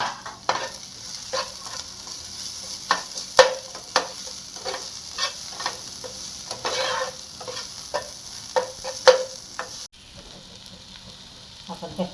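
Browned onions and crushed green chilli paste sizzle softly in a pan, punctuated by repeated sharp scrapes and clacks of a spoon stirring, before the sound drops abruptly near the end.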